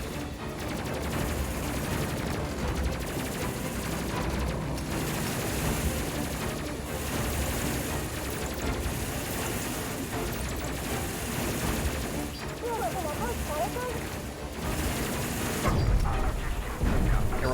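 Gunfire in the Space Crew video game comes as dense, sustained bursts and rattling volleys across the whole stretch. It is moderately loud and steady, with a heavier thump near the end and occasional talking mixed in.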